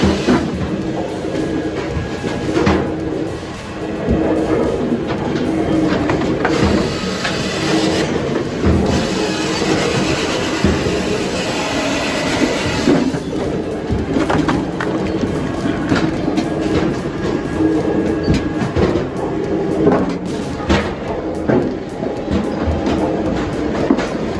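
A high-speed, heavy-duty automatic firewood processor runs continuously. Its dense, loud mechanical clatter and rumble carries on without a break for the whole stretch.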